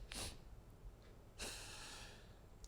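Energizing breathing exercise through the nose: two sharp, forceful nasal inhales or snorts about a second apart, close and fairly quiet, with soft breath noise between them.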